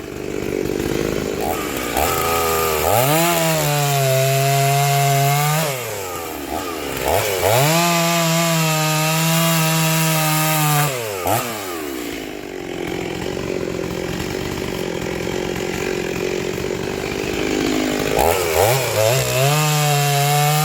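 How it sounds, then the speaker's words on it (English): A Stihl 036 chainsaw cuts wood in repeated loud bursts, its engine revving hard into each cut and dropping back to idle between cuts, close by and with no talking. "Whew, that thing's fast. Faster than all them old saws that I got."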